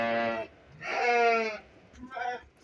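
Female lambs bleat in three separate calls, close and fairly clear, with short pauses between them.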